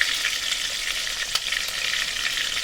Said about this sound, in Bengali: হাই ফ্লেমে রেখে চিকেনগুলো ভাজতে হবে।